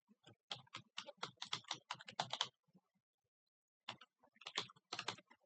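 Rapid clicks of a computer keyboard come in two bursts of typing separated by a short pause, close and fairly quiet, as an email address is entered.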